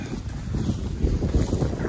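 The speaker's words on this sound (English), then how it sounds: "sorry about the wind," Heavy wind buffets the microphone with low, rumbling gusts that rise and fall throughout, with no voices.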